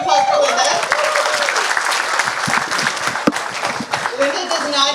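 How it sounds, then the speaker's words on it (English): Loud, sustained audience applause fills a campaign launch for a regional councillor candidate in Brampton, Ward 9 and 10, with dense clapping throughout and voices mixed in. "Give a round of applause for Linda"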